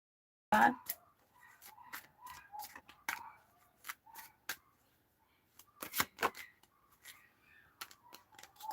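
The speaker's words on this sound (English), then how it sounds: "You want the ancestor deck shuffle?" Close, crisp bursts of a tarot deck being shuffled and riffled, irregular flicks and snaps in clusters, with soft whispered voices between them.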